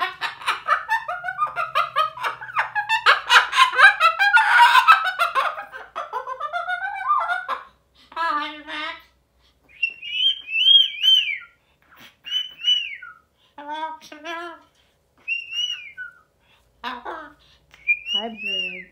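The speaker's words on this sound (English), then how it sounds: "Hi, bird. Hi, Maxie Bird. How are you, Maxie Bird" Pet bird whistling and chirping in short repeated calls, loud and close, first mixed with a person talking to it, then alone in bursts with brief pauses.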